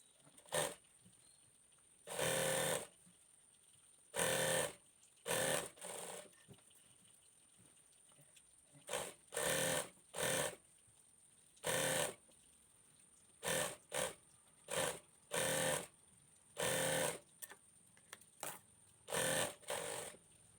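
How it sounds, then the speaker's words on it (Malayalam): A sewing machine stitches a small folded hem on a churidar top sleeve in bursts, each run of stitching lasting about a second and repeating a dozen or more times with short pauses, close and fairly loud with no talk. "അതിനുശേഷം നമുക്ക് സ്ലീവിൻ്റെ താഴ്ഭാഗം ഇതുപോലെ ചെറുതായിട്ട് മടക്കി സ്റ്റിച്ച് ചെയ്ത് കൊടുക്കാം."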